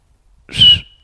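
A voice imitates a referee's whistle with a single short, breathy blast that rises and falls, heard alone and close up.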